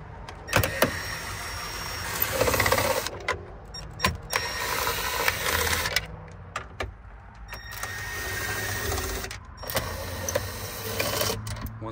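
A ratchet or power driver backs screws out of a 2000-2002 Tahoe instrument cluster in several close, whirring bursts separated by short pauses, with clicks and handling noise between them.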